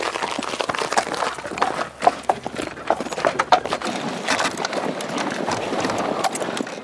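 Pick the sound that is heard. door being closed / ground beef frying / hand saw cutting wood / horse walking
horse walking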